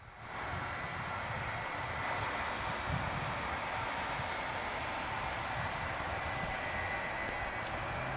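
An American Airlines Airbus A320 jet takes off at Dallas/Fort Worth International Airport at night, its engines a loud, steady roar that fills the whole stretch without easing, with no talk over it.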